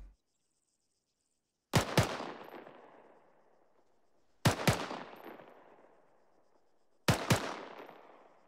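Three pairs of sharp gunshots, double taps fired at a rapid rate with about two to three seconds between pairs, each report loud and close with a ringing decay and no talk.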